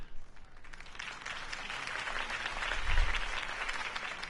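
A crowd in a Batman video game applauds steadily, a dense wash of clapping that swells slightly toward the end, with no talking over it.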